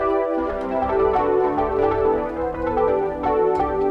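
A synth preset named Blue from the Natonic 2 plugin plays sustained, layered chords with a soft melodic line on top, alone and without voices, for a modern RnB beat.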